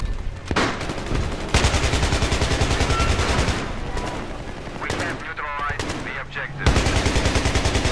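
Rapid automatic gunfire in the video game Battlefield 3 rattles in loud sustained bursts, broken by short gaps and a quieter stretch, with other game sounds mixed in.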